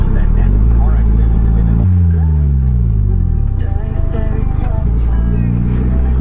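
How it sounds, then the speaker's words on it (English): Polaris Slingshot three-wheeler engine revving and accelerating hard while pulling out into traffic, with loud rising gear sweeps, a shift near two seconds and another climb late, close and continuous. "Pulling out in traffic is not a problem in the Slingshot"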